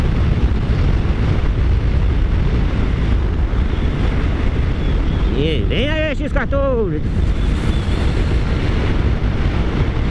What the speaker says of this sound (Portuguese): Olha o vento, rapaz.